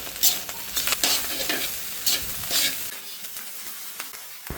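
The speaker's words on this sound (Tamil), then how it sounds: "ஒன்றா கிண்டிக்கலாம்." Spiced egg rice with ground pepper, chilli powder and salt being stirred in a hot pan, with steady close scraping and tossing over a soft continuous sizzle of frying.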